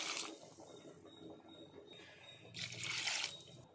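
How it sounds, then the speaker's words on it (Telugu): Two glasses of water are poured into a simmering goat head curry in two short splashy bursts, the second longer, fairly quiet and close, with no voices. "ఇప్పుడు మనము రెండు గ్లాసులో వాటర్ వేసుకోవాలి"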